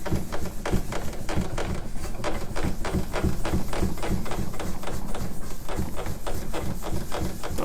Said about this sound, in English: This is the jiggly drawer